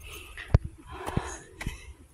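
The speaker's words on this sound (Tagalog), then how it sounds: "Hingal kabayo." After a hike up a mountain, a person pants heavily and close to the listener, giving a run of breathy gasps with a few sharper catches of breath.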